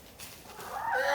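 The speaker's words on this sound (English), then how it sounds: "So we got chickens." Chickens on a homestead clucking in a short, close burst that grows louder toward the end, with no voices.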